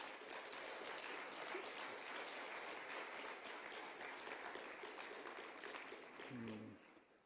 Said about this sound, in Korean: 우리 감사 박수 한번 해드리시겠습니다